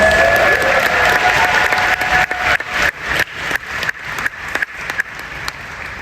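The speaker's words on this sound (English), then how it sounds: "Here she comes, round of applause," Loud applause from a crowd at a cosplay competition, dense clapping that gradually thins into scattered, separate claps toward the end.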